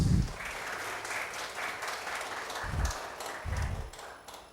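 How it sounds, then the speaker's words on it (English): An audience at a campus career talk claps for a gentleman, a steady patter of applause running throughout with a few heavier thumps standing out. "That gentleman needs a big hand of applause"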